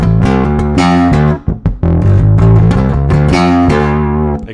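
An electric guitar through a pedalboard set for low gain plays a steady run of mildly overdriven chords and notes, with a brief break in the middle before it continues.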